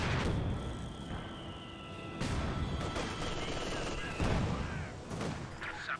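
Gunfire and mortar artillery from Company of Heroes 2 battle sounds, with bursts of shots and heavier booming impacts over a continuous rumble, and a voice commenting over them.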